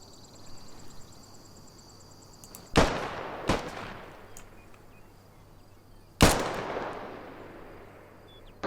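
Three sharp rifle shots crack out on a shooting range in a military simulation video game, two close together and a third a few seconds later, each ringing briefly into a quiet, faintly humming background.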